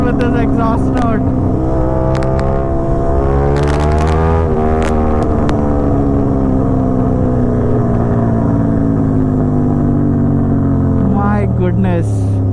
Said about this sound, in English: I'm just loving this motorcycle with this exhaust note.